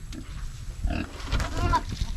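Pigs being fed on a Philippine farm give short grunts and squeals close by, among rustling and background farm noise, with faint voices in the distance.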